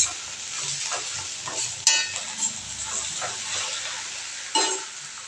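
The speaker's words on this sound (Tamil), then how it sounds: "இப்போ வெண்டைக்காய் வதங்கிக்கிட்டு இருக்குது." Okra sautés in a pan with masala powder, giving a steady close sizzle with stirring scrapes and a couple of louder clatters, no voices.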